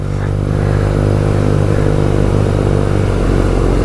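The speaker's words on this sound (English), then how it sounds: "Oh, let the clutch out a bit too much there." A BMW R nineT motorcycle engine holds a loud, steady, throaty drone as the clutch is let out, close and continuous for a few seconds with a slight rise toward the end, no voices over it.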